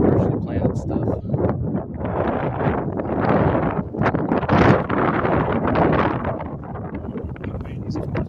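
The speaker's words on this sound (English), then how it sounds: "Boy, it's a windy one today." Strong wind gusts across a freshly planted field outdoors, roaring and buffeting the microphone in uneven surges throughout.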